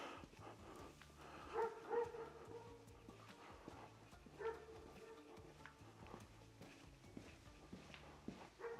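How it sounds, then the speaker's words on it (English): A dog barks a few times at a distance beside a small village church on a Sunday along Gran Canaria's mountain road to Tejeda, the sharp barks rising over a quiet outdoor background with faint footsteps. "seem to have upset a dog by being here."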